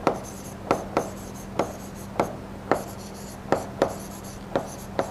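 Chalk writing on a classroom board: a series of sharp, irregular taps and short strokes, close and distinct over a faint steady hum.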